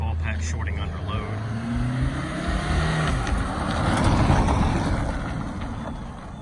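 A Toyota Echo engine runs rough and skips after a Seafoam treatment, its uneven low rumble surging and faltering steadily up close under a constant drone, with voices talking over it.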